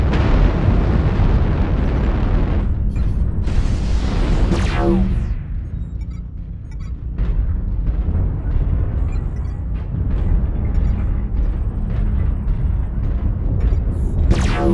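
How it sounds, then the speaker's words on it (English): Missile explosions during a MechWarrior Online battle on the Tourmaline Desert map, heard as loud, dense booming blasts that rumble almost continuously, with a sharp whistling burst near the middle and another heavy blast at the end. "Incoming missile."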